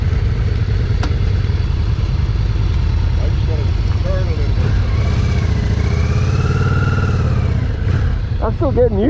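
A Yamaha Virago 535 or 1100 motorcycle engine runs with a steady, loud low rumble throughout, while a voice talks over it.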